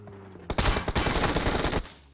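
Loud burst of rapid automatic gunfire in PUBG Mobile, a dense volley of shots lasting just over a second, close and dominant with no talk over it.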